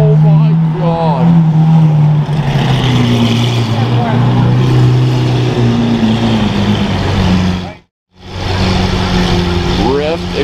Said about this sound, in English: Ryft exhaust SVJ is bad.